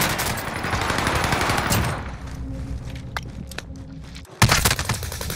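Dense bursts of automatic gunfire from a Call of Duty Warzone match, loud and continuous at first, thinning to scattered distant shots, then a sharp loud burst near the end.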